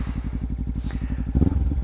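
A Kawasaki Ninja 300 motorcycle idles and chugs off road with a steady low engine pulse, then revs briefly with clattering and scraping toward the end, heard up close.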